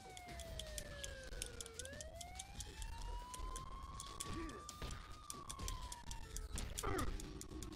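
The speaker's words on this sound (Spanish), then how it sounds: "La policía y al pedo sigue sonando la sirena." A police siren wails in the Spider-Man 2 video game, a steady rising-and-falling electronic tone that sweeps continuously over background game noise and sharp repeated clicks, fairly loud throughout.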